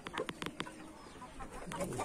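Roosters cluck in short, quick bursts, fairly close, over a murky outdoor background that grows busier toward the end.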